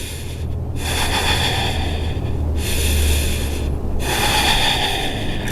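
Steady, heavy breathing from someone holding a yoga pose, with loud, continuous airy breaths and brief pauses, close up and without talk.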